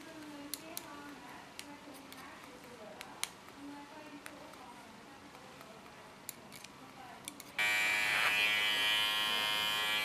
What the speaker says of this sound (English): Control my line with a clipper,